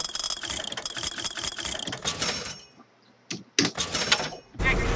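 A wallet of money being picked up in the BioShock Infinite video game: a short mechanical ratcheting, cash-register-like clatter amid game sounds, then a brief quiet gap and more clicks.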